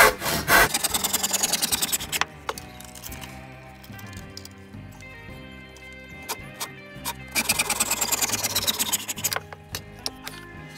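A hand saw cuts through wood in a kids' birdhouse carpentry project, rasping in rapid back-and-forth strokes in two bursts separated by slower, squeaky strokes, close up with no talk.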